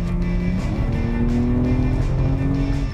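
A BMW X3 M Competition SUV engine drones loud and close, its rich harmonic tone steady with a slight rise and fall in pitch over three seconds, with no voices.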